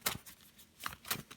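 A deck of tarot cards given a quick shuffle: a few short, soft riffling bursts at irregular intervals, close and quiet, with no talking.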